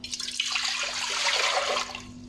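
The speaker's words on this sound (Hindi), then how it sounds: "सबसे पहले हम इसके अंदर पानी ऐड करेंगे" Water poured into a pressure cooker before adding 2 kg of beef chops, a steady splashing, gurgling pour lasting a couple of seconds, close and fairly loud with no talking.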